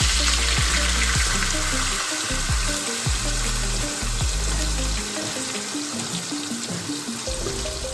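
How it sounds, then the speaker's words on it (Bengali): Blended onion paste sizzles and crackles steadily in hot oil in a kadai. The frying is loud and continuous, with occasional stirring scrapes and no voices. "পেঁয়াজটা ভালো করে ভেজে নেব"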